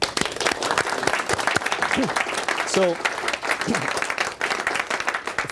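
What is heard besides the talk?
applause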